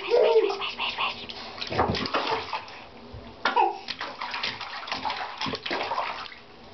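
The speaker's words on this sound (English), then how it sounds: "Yay, bath time. Splash, splash, splash." A small child splashes water in a bathtub, sloshing and splattering close up in an echoey bathroom, with an adult's soft voice occasionally underneath.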